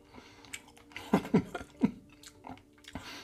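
Someone chews a hand-held bite of barbecue chicken wing, soft wet mastication sounds with a few sharper bites, close and quiet, no talking.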